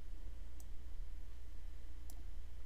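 A computer mouse clicks to save a file: two brief, faint clicks about a second and a half apart over a steady low electrical hum, with no talking.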